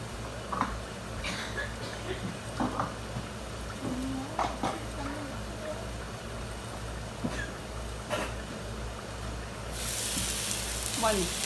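Chiles and tomatoes frying in a pan for a chile de árbol salsa, a steady close sizzle with soft stirring clicks throughout, growing brighter and louder near the end.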